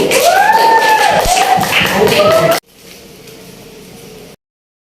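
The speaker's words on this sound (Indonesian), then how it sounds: "tepuk tangan untuk Ibu" A classroom of students claps for their teacher in a loud burst mixed with voices, stopping abruptly and leaving faint room noise behind.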